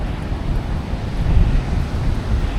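Strong wind buffeting the microphone with a low roar, mixed with the rushing wash of high waves on Siquijor in the rainy season, fairly loud and continuous.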